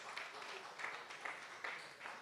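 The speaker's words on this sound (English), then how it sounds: "Please, if he's here, can you clap for him?" A conference audience applauds a speaker at a stakeholders' engagement session. The continuous patter of many hands sounds somewhat distant and faint, with no talk over it.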